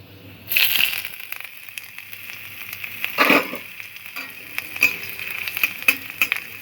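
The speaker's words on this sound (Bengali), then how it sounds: "ফোড়নটা অল্প করে ভেজে নেব।" Spice tempering with chopped ginger sizzles and crackles in hot oil in a pan, a steady hiss punctuated by sharp pops and a louder burst as ingredients hit the oil, with occasional stirring scrapes.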